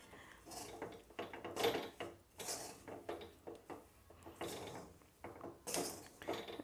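A spoon scrapes and clinks against a pot while cardamom powder is stirred into a rava modak mixture, giving repeated close, moderately quiet scraping strokes with brief metallic taps in an uneven rhythm.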